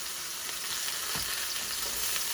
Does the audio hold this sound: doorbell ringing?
no